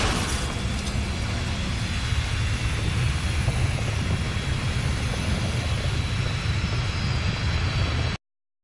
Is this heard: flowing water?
no